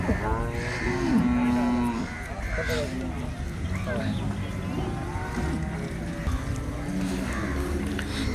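An HF dairy cow at the Loni cattle market lets out a deep, drawn-out moo, with crows cawing and people talking in the busy background.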